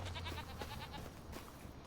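Goats bleat in the video game Farming Simulator 25 on the Elmcreek farm. Several wavering cries overlap in steady succession at moderate loudness over a low background hum, with no talking.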